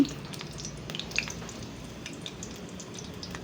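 Food frying steadily in a pan, a soft continuous sizzle with scattered pops and crackles, fairly quiet and with no talking.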